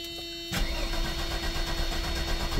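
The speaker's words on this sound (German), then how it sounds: "Liegt daran, dass Leo gerade hier vorne mit Bremsenreiniger steht" A car with a failing fuel pump cranks and fires while brake cleaner is sprayed into the intake, then catches and runs with a rough, loud idle close by.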